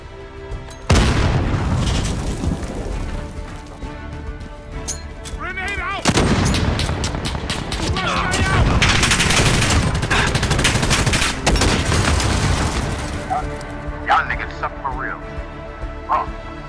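Rapid Glock pistol shots ring out in a shooting video game, loud, sharp cracks in a dense string with booming explosions mixed in, while voices talk over the action.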